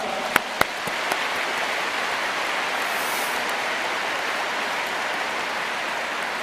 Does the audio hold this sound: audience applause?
yes